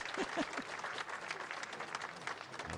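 Spectators at a traditional bullfighting arena clap steadily, a distant, faint wash of applause with a brief voice near the start.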